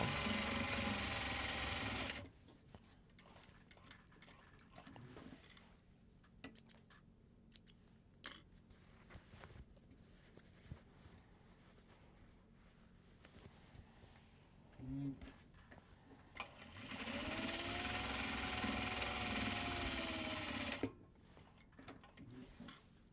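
A sewing machine stitches seams on Japanese fabric in a quiet room, with two loud bursts of steady whirring at the start and near the end, separated by faint clicks and handling noises.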